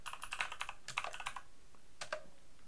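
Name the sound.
typing code on a computer keyboard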